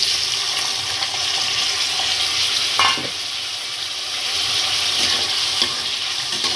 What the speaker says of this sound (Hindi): तेल अच्छे से गर्म हो गया। अब इसमें आलू को फ्राई करेंगे।